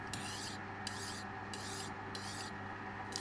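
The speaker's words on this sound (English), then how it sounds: "I spend a little time with a file and Scotch-Brite." A hand file rasps across a lathe-turned metal part in steady, rhythmic strokes, about five even passes, close up and fairly quiet.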